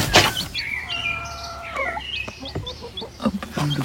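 Rooster and young chicks kept in a cage after hatching, soft clucks and thin high chirps scattered close by at moderate volume, with no talking.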